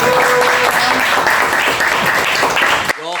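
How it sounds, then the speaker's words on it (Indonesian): Podcast audience breaking into loud, close applause, a busy, sustained clatter of hands mixed with some cheering voices, cutting off abruptly near the end as a brief voice follows. "tepuk tangan semuanya."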